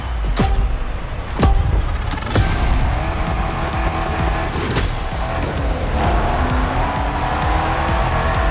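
Tires squeal steadily as a car drifts in The Crew Motorfest racing game, the engine droning loudly throughout, with a few sharp impacts near the start and a long wavering screech that continues without any talk.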